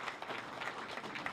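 At an award ceremony, a crowd gives a short burst of congratulatory applause, a brief patter of clapping that sounds somewhat distant and fairly faint.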